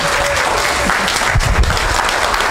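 An audience applauds loudly and steadily in a hall, dense continuous clapping from a large crowd with a faint low murmur beneath.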